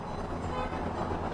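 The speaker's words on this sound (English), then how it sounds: "You may be able to hear the honks." Car horns honk from protesters outside CDC headquarters in DeKalb County, Atlanta, as sustained tooting blends with a steady roadside traffic rumble.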